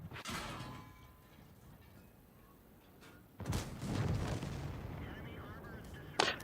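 Tank cannon shots fired with APCR rounds in World of Tanks, two heavy booming blasts with long rumbling decay, the second louder and closer, and a sharp crack at the very end.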